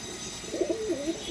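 A pigeon in a coop gives a short, soft, throaty coo, two or three rolling notes close by over low background hiss.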